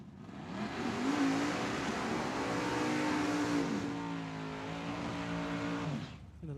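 Gambler-class drag racing cars, a Mopar among them, launch at a dragway with a loud, rising engine howl that climbs in pitch and holds before easing off near the end.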